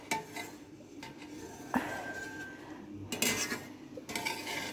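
A knife works through goat's milk feta curd in a bowl, giving soft scraping and a few clinks and knocks against the bowl, close and fairly quiet.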